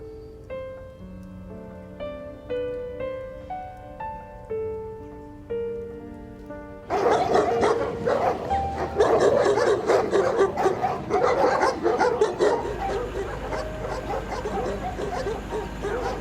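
A dog barks repeatedly and loudly, overlaid with heavy rain noise and a rushing wash after an earlier stretch of melodic music.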